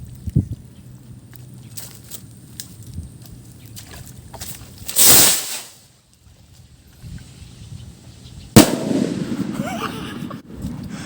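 A Laguna Pyro Junior Quiton firework goes off as one loud, sharp burst mid-clip, followed by a fainter crack and rustling; scattered pops and background noise come before it.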